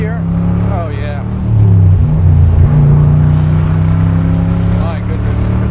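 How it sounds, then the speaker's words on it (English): A 1965 Chevrolet Corvette convertible with the L79 327/350 engine, 4-speed and side pipes revs up, its loud, throaty exhaust swelling and holding a strong steady roar, while someone talks over it early on. "give her a little rev through range here"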